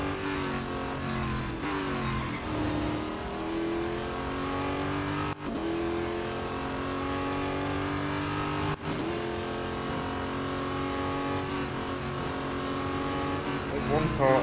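Race car engines drone steadily through a race in the video game Real Racing 3, a continuous loud roar with shifting pitch as cars accelerate, under ongoing talk.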